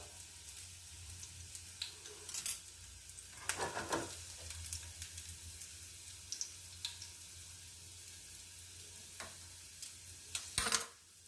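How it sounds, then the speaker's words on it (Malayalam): Onions fry in a pan with a quiet, steady sizzle, and a few clicks and scrapes of stirring stand out above it at close range. "ഒരിച്ചിരി ഒന്ന് ഉള്ളി മൂക്കട്ടെ"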